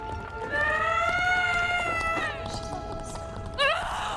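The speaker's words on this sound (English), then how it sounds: "You're spooking my horse." A horse runs with hurried clip-clop hoofbeats under a tense scene, mixed with loud sustained tonal sounds and a brief sharp squeal near the end.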